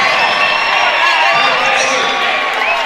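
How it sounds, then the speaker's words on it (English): A basketball crowd at the ASRC arena roars and cheers during a timeout in a Fairmont State versus West Liberty game, a loud sustained wash of voices and whoops filling the hall. "Crowd here at the ASRC fired up about this one"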